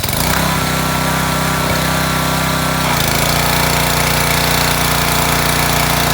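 A Troy-Bilt snowblower's small gasoline engine runs loud and close with a rapid, rattling idle that drops to a lower, steadier pitch about halfway through.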